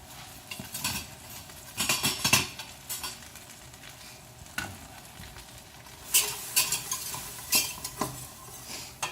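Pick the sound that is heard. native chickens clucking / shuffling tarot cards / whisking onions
whisking onions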